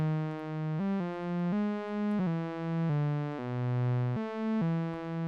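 Ambient synth pad built in Reaktor, playing a slow sequence of sustained, harmonically rich tones that shift pitch every second or so, smooth and gently swelling with no percussion, alone.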